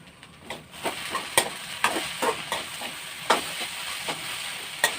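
Okra stir-fry (vendakka mezhukkupuratti) sizzles in a pan with a steady frying hiss, broken by irregular sharp clinks and scrapes of stirring, fairly quiet and without voices.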